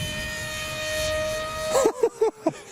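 An RC-converted Lidl foam glider, the Sir Newton, flies with a thin, steady motor whine that drifts slightly in pitch, followed by a few short voice bursts at the end.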